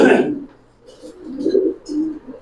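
Giribaj pigeons kept in a loft give soft, low, rolling coos in short repeated phrases after a brief louder burst at the start, heard close by.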